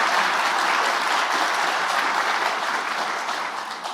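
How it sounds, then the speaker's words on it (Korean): Audience applause at an event held at the Cheong Wa Dae guest house, loud, dense clapping from a large crowd filling the whole stretch and tapering slightly toward the end, with no voices over it. "영빈관에서 진행했던 어떤 행사보다 박수 소리가 큰 것 같습니다."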